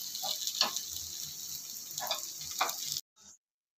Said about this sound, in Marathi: तर अप्पे भाजताना आपल्याला हे आपले पात्र थोडं थोडं असं फिरवत भाजून घ्यायचे